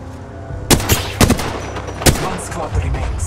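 Several sharp gunshots from a light-ammo weapon in the battle royale shooter Apex Legends, a quick cluster of cracks over background game noise, with a few more scattered shots.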